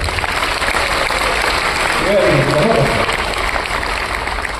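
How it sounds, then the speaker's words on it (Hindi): An audience at a motivational talk applauds the royalty achievers, a steady dense wash of clapping that runs loud and unbroken, with a brief voice rising over it midway. "तो एक बार इन रॉयल्टी अचीवर्स के लिए ताली बजाओ।"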